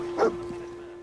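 Dogmeat, the dog companion in Fallout 4, gives a single short bark or yip near the start, fairly faint over a steady hum of game ambience.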